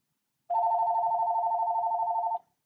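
A single sustained electronic ring from a phone, close and steady for about two seconds, then cutting off into silence.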